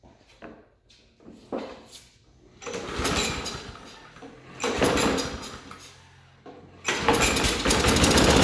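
Old, long-forgotten lawnmower engine being coaxed with starter fluid: repeated pull-start bursts that sputter briefly, then a louder run of engine noise near the end, close up with no talking.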